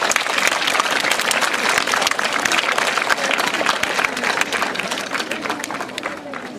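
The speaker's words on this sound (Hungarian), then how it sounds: "Kérek egy nagy tapsot." Dense, loud audience applause fills a school year-end ceremony, sustained steadily throughout with crowd noise mixed in and no distinct talk.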